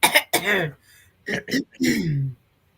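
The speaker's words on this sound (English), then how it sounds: "let me clear my throat" Someone clears their throat loudly several times in short, raspy bursts, close up, with brief pauses in between.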